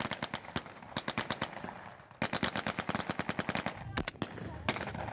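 Rapid bursts of gunfire with blank cartridges crackle in quick rhythmic volleys, with brief pauses between strings of sharp reports, fairly distant.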